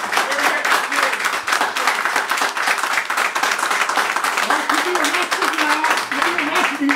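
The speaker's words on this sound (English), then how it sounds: "Too much clapping, you're going to be arrested." Audience applause at a 2014 mayoral debate held at The Refuge, loud, dense and continuous throughout, with a speaking voice mixed in underneath.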